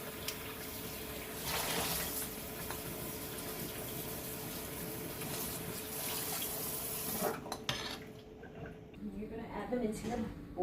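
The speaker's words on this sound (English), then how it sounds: "Alright, wash your potatoes." Potatoes are rinsed under a running kitchen tap, a steady close splashing gush of water that cuts off partway through, followed by quieter handling sounds and a voice speaking.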